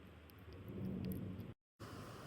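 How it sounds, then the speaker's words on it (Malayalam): A low, distant rumble of thunder swells over a soft hiss of rain, then the sound briefly cuts out. "നമ്മുടെ മഴയും ഇടിമിന്നലുമാണ്"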